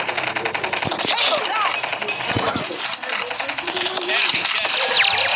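Rapid bursts of video game gunfire, including an NA-45, crackle almost continuously, with dense automatic volleys and scattered single shots under faint voices.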